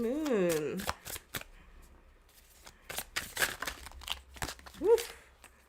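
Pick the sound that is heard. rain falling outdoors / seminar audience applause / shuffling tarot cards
shuffling tarot cards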